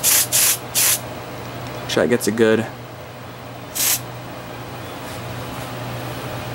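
An aerosol smoke detector tester sprays in several short hissing bursts near the start, with a later burst around four seconds, and a person speaks briefly in between during a home fire alarm system test.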